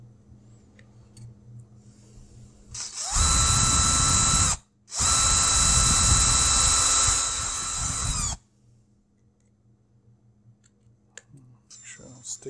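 A power drill with a dull bit revs loudly close by in two bursts with a brief stop between, set against quiet room noise with faint clicks.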